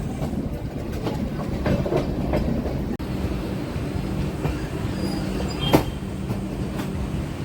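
The Padmavathi Superfast Express with LHB coaches rumbling steadily along the tracks from inside, with a constant low roar, faint rhythmic wheel clicks and an occasional sharp rattle.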